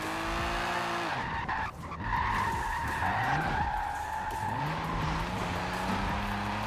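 A drift car in a racing video game skids with a loud, sustained tire squeal layered over the steady roar of the engine, pitch shifting as the car slides, with no talking.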